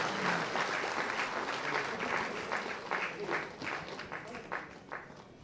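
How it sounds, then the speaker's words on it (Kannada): Athletes clap together at a sports award ceremony in Karnataka. The applause is steady and fairly faint, a dense crowd patter that slowly thins toward the end. "ಕೇವಲ ಕ್ರೀಡಾಪಟುಗಳು ಮಾತ್ರ ಚಪ್ಪಾಳೆ ಹೊಡೆದು"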